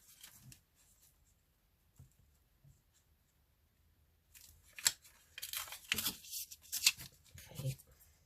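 Sheet of craft paper torn roughly in half by hand for a card-making over-page pocket, a series of close, crisp ripping bursts that follow a few quiet handling sounds.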